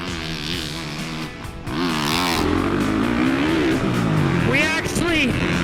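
2018 Honda CRF 450R motocross bike ridden around a lap, engine revving up and down in rising and falling pitch, steady and fairly loud with talk over it.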